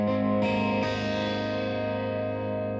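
An electric guitar played through an Ibanez Tube Screamer distortion pedal set low, giving a mild breakup: a few chords struck in quick succession ring out loud and sustained, then slowly decay.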